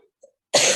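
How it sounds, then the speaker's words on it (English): A single loud, harsh cough bursts out near the end after near silence, close to the mic, from a lecturer who is ill with COVID while teaching; the faint sounds before it are not clearly coughs. "I'm sorry for repeated cough"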